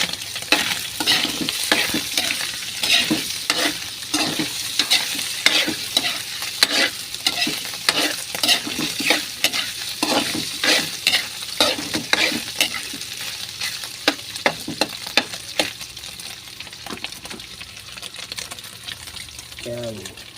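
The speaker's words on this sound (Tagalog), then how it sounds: "Gigisa ko na lang." Ingredients for papaitan, a Filipino bitter stew, sautéed in a pan: steady sizzling with repeated scraping stirs of a utensil against the pan, close and fairly loud, running throughout with no talk.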